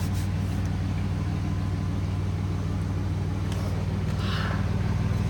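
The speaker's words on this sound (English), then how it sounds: "The idle just kicked down, you can hear it there" A 1970 Chevy Nova engine idles steadily with a low, throbbing rumble close by, its power booster failing, while faint clicks and a brief hiss come and go over the constant drone.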